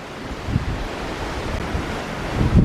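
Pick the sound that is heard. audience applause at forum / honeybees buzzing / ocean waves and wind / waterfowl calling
ocean waves and wind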